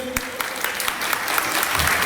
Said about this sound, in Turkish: Kuvvetli yeni bir alkış olsun bakalım. Alkışlara görelim.